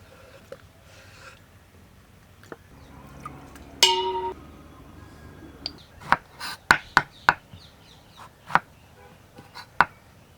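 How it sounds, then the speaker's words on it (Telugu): A knife slicing onions thinly and slitting green chillies on a board: sparse light scrapes, one clink, then a run of crisp, irregular chopping taps, close and fairly quiet. "ఉల్లిపాయలు పులుసుకి ఈ విధంగా సన్నగా కోసుకోవాలండి పచ్చిమిరపకాయలు కూడా చీలికలు చేసుకుందామండి"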